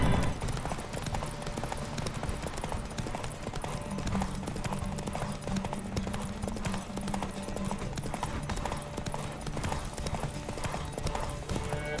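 A horse gallops steadily in The Witcher 3, with rapid, continuous hoofbeats and faint game sounds underneath, loud and close throughout with no speech.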